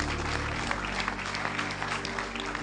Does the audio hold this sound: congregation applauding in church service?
yes